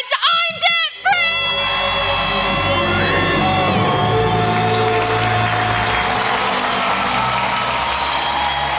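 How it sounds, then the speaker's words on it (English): A live studio audience at a Ramsey Show taping in Orlando counts down and lets out a loud group scream that swells into cheering, whooping and applause, close and sustained, with a voice leading at the start. "Let's hear a debt-free scream."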